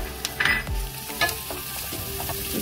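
Mushrooms sautéing in a pan with chili, a close frying sizzle broken by a few scraping stirs and light utensil clinks, no voices.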